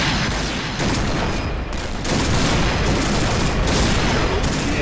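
Sustained rapid gunfire in the Point Blank video game rattles loudly and almost without pause, with dense volleys of shots stacking on one another and briefly thinning before resuming.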